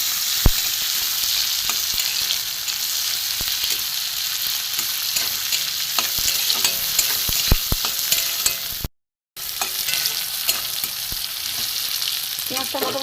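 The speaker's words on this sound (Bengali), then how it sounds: "পেঁয়াজটা একটু ভেজে নিই।" Onion frying in a pan on a gas stove for a vegetable and hilsa fish curry, heard as a continuous loud sizzle with occasional stirring clinks and a brief drop-out near the end.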